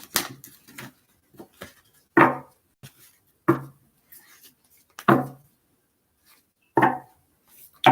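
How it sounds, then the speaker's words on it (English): Oracle cards are shuffled in a handful of separate bursts: quick riffling flutters and soft slaps of the deck, with quiet gaps between them. "Let me just do one more quick shuffle."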